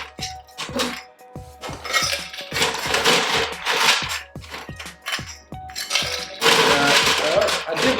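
Ice cubes clink and rattle into a glass for a stirred old fashioned cocktail, a run of sharp, bright knocks and clatters close by, with a voice talking over parts of it.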